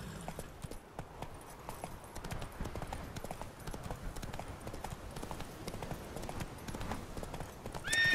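Horse hooves clip-clop at a steady galloping rhythm in The Witcher 3, with occasional neighs and whinnies; constant and fairly close, with no talking.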